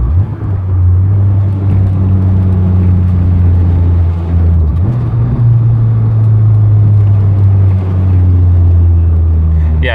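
A Toyota AE86 fitted with new CUSCO parts drives along, its engine a loud, steady low drone with a slight shift in pitch midway, heard close up from inside the car.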